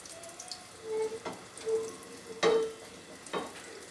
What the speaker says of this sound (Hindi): थोड़ी देर के लिए इसको फ्राई होने देंगे